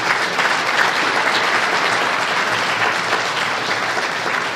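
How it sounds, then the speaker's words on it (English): A crowd at a building's ribbon-cutting ceremony breaks into loud, sustained applause, a thick even roar of many hands clapping close by with no talk over it. "So let's give her a big round of applause too."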